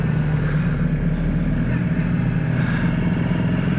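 Royal Enfield Meteor 350 motorcycle engine running steadily at a cruise, a constant low rumbling thrum heard close and fairly loud with no voices, like riding along.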